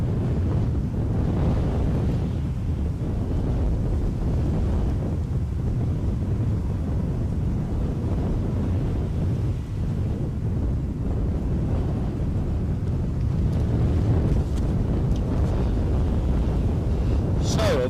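Strong, gusty wind buffets a microphone at Edinburgh airport, a steady loud roar of broadband rumble with surges and swells running the whole time, no clear talk over it.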